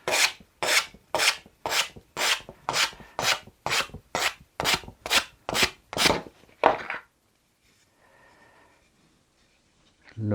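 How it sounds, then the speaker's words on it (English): Hand sanding of tent parts, with about a dozen rhythmic back-and-forth rasping strokes close to the microphone, then a pause with faint rustling and a final stroke starting at the end. "so we'll just quickly sand them down"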